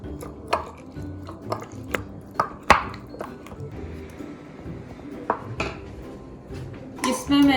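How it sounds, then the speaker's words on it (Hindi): Kiwi is pressed and mashed with honey in a glass, giving sharp, irregular clinks and taps against the glass with soft squishing between them, close and clear. "ताकि कीवी थोड़ा सा स्मश सा हो जाए"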